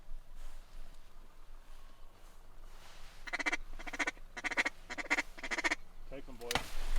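Ducks quack and call near decoys at dawn during an Alberta waterfowl hunt. The calls come in a rapid run of loud, repeated bursts over an open outdoor background, with a sharp sound near the end.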